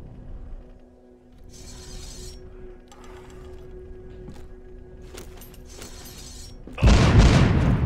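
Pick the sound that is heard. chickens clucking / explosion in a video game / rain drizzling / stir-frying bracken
explosion in a video game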